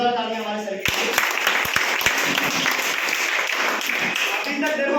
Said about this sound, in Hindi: जोरदार तालियां हमारे सर के लिए।